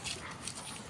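Several newborn mixed-breed Filipino street puppies, a litter of six, whimper and squeak softly and continuously at close range, with faint rustling around them and no talk.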